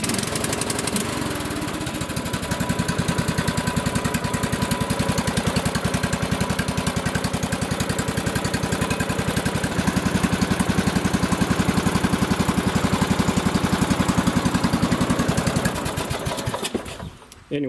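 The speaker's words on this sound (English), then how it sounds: "And I'll just start it up here to show you." A lawn tractor engine, suspected blown-up, starts and runs at a steady loud, rapid pulsing idle close by for most of the stretch before cutting off near the end, no talk.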